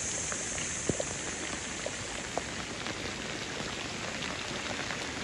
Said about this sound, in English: The heavy rain has started.